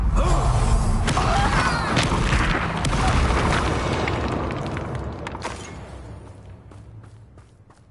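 A Bombarda spell blast in a fantasy video game: a loud, deep explosive boom with crackling debris and rumble that slowly fades over several seconds.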